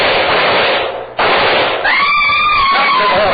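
A rifle shot sound effect in a wartime radio drama fires as a loud sharp crack, then ricochet-like whines and a sustained noisy rumble follow, close and dominant.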